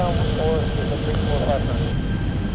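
Airliner on a night ILS approach to Geneva runway 04, a steady broad engine roar held at constant level throughout, with tonal whine bands over low rumble and faint radio voices mixed in.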